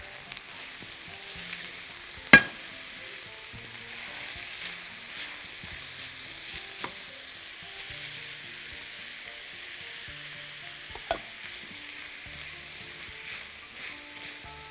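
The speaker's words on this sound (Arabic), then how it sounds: "دلوقتي بقى عايزين نحط القوطة طماطم، هنحطها مع اللحمة" Tomatoes drop into meat frying in a pan for a casserole with roasted peppers, giving a steady sizzle with a few sharp clicks and stirring knocks, close and alone with no voices.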